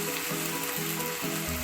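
Sauce for Filipino-style spaghetti hits a hot pan with a steady, close sizzle that carries on evenly for the whole moment, with no talking.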